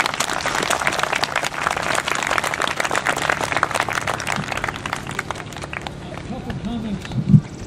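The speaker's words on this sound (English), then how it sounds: "let's give all of our elected officials a wonderful round of applause" Audience at an outdoor Arbor Day event applauds elected officials, steady dense clapping that runs for several seconds before thinning out, with a brief thump near the end.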